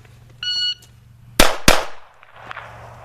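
Pistol drawn from a shoulder holster and fired twice in quick succession, two loud sharp reports about a quarter second apart with a brief echo tail, preceded by a short timer beep.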